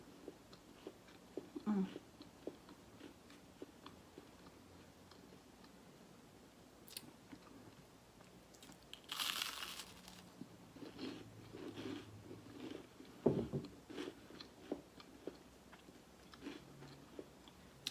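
Crispy Great Value Texas toast garlic bread is bitten and crunched close to the mic during a mukbang meal, with soft intermittent crunches and chewing spread out over a quiet background.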